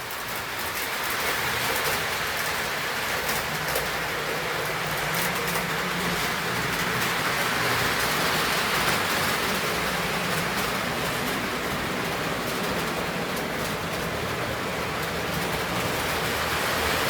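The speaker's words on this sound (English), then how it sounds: "That's a pretty heavy train." A heavy train rolls past near a river, a steady, broad rushing rumble that stays loud and even throughout with no talking.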